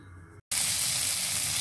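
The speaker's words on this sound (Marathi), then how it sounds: "असं मी आता प्रत्येक मच्छीला हा मसाला लावून सर्व मच्छी फ्राय करून घेणार आहे" Surmai fish pieces coated in masala fry in hot oil, a loud, steady hiss and crackle that starts abruptly after a short gap and carries on evenly.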